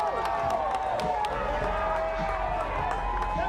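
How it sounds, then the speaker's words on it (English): A street crowd at Bud Crawford's victory parade cheers and claps continuously, a dense wash of voices and applause with a loud steady rumble underneath and scattered sharp claps on top. "Everybody's cheering, everybody's clapping"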